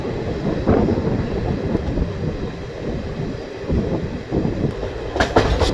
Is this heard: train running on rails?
yes